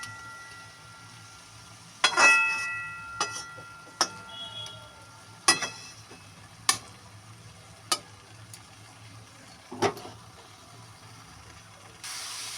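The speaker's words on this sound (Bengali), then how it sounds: "এবার আস্তে আস্তে ভাজা হবে, আর পেঁয়াজ রসুনটাও কিন্তু" Spiced fish frying in a pan with onion and garlic gives a low steady sizzle, broken by several sharp clinks and scraping taps of a utensil against the pan at irregular intervals.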